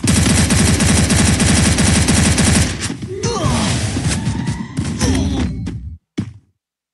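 Rapid automatic gunfire from a video game gun, a loud dense burst of evenly spaced shots that gives way to scattered shots and clatter before cutting off abruptly.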